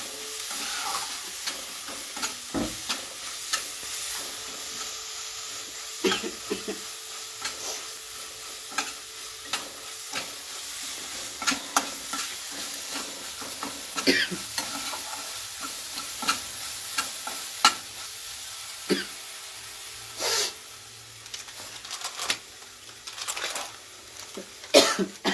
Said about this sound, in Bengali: জাস্ট মশলাটা একটু ভাজা ভাজা হবে